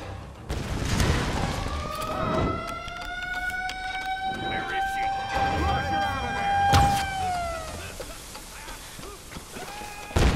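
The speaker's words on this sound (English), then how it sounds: "I think I finally got rid of that siren." A wailing siren in the video game Tomb Raider: Definitive Edition rises and holds a long tone, then bends downward and fades, amid thuds and gunfire-like bursts from the game.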